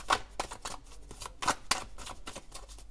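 Oracle or tarot cards being shuffled by hand in a quiet room, making a run of brisk, close riffling and slapping bursts in an uneven rhythm.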